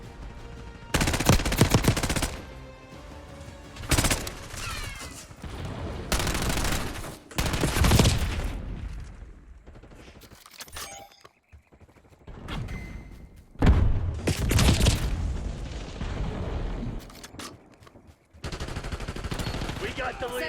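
Gunfire in Call of Duty Mobile, with repeated bursts of automatic weapon fire and single loud shots coming in clusters separated by brief lulls, mixed with game voice announcements.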